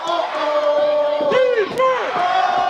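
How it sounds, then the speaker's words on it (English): A high school football crowd roars and yells at a Chaminade versus Poplar Bluff game, a loud, close swell of massed shouting and whoops with rising and falling voices throughout. "You can hear the crowd on this side."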